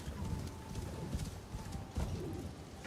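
A horse in the video game Assassin's Creed Shadows, set in snowy Japan, gives a drawn-out whinny over steady clip-clopping hooves, with a busy outdoor game ambience behind it.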